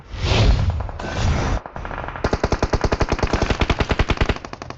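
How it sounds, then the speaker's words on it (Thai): Automatic gunfire in the mobile battle royale game PUBG Mobile crackles loud and close, starting with a couple of heavy bursts, then a rapid, evenly spaced stream of shots lasting a few seconds. "น้องยิงพี่ทำไม"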